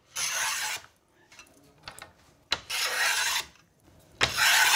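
A hand plane shaves down the shaft of a snooker cue, three long hissing strokes close by, with quieter pauses and small clicks between them.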